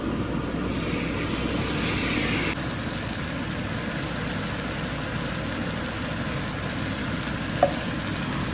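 Diced tomatoes and fried onions sizzle in a pan for paneer masala curry, a steady, moderately quiet frying hiss that continues throughout with one brief clink near the end.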